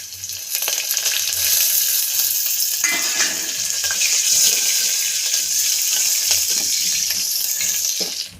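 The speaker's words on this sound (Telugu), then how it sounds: "ఎండుమిర్చి, వెల్లుల్లి రెమ్మలు వేస్తున్నా. కరివేపాకు" Dry red chillies, garlic cloves and curry leaves hit hot oil for a southern Indian greens-and-lentil dish, producing a loud, steady, crackling sizzle that runs unbroken for several seconds with no talking over it.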